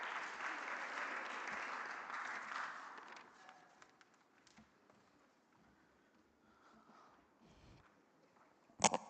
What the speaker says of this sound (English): can we give Mr. Mshologi the round of applause?